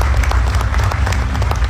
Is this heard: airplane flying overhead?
no